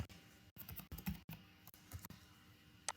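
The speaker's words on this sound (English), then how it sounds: "I will now write down a password." A password being typed on a computer keyboard, a run of close, quick clicking keystrokes in uneven bursts with short pauses, no talking.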